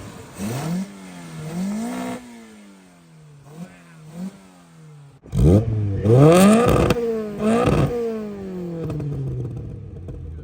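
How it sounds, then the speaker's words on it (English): Toyota AE86 with a 4AGE engine revving, a series of rising and falling rev blips with sharper, louder high revs toward the end, heard close with no talking. "that's a beautiful look at the AE86 4AGE, and now I'll give you guys a little sound clip of it"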